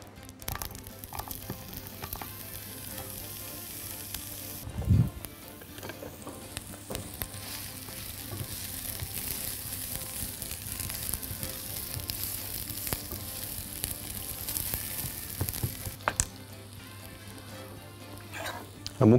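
Onions frying in a lightly oiled pan give a steady crackling sizzle throughout, with a couple of brief louder clatters of the pan near the start and end, and a faint voice now and then.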